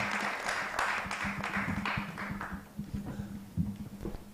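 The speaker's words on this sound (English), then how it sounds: "Let's give a big hand of applause to Veril and to all the panelists" Audience applause at a PCB national close-out workshop, a dense patter of clapping that starts full and thins out toward the end, with a low hum underneath.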